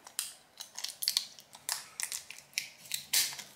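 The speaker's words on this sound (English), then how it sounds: "cut a little bit of this shrink wrap here until you can get it started, just like that. And then you'll just tear" Shrink wrap torn off an 18650 lithium battery cell, a close, quiet series of crisp crackling rips and crinkles in irregular bursts.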